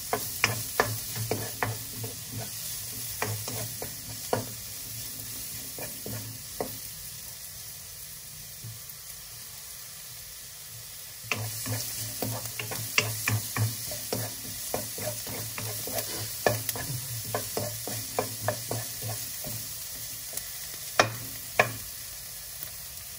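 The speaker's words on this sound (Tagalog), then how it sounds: "Haluin nyo lang para hindi masunog yung ating bawang." Garlic and onion sautéing in a pan, a steady sizzle punctuated by repeated spatula taps and scrapes from stirring, with a brief quieter stretch midway.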